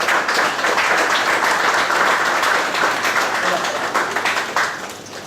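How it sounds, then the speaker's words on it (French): Many people in an audience at an award ceremony clap together, a loud, dense and even round of applause that holds steady and then thins toward the end, with speech faint beneath it. "on peut tous les applaudir plus que ça"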